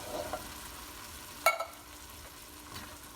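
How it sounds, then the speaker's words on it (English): Diced canned tomatoes and chickpeas are stirred in a pot, a soft low sizzle with one sharp clink of the utensil midway and faint scraping, quiet and without speech. "Give that a stir."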